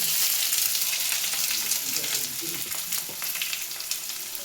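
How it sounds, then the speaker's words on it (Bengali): Chopped onion frying in oil with sugar, green cardamom and dried chilli, a dense close sizzle with soft stirring scrapes, fairly loud and steady with no talking. "চিনি, ছোট এলাচ আর শুকনো লঙ্কা হয়ে গেছে, দিয়ে দিলাম পেঁয়াজ কুচি।"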